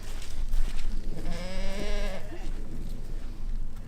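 A goat bleats once in a wavering, drawn-out call at a farm where calves are being loaded, rising over constant rustling background noise.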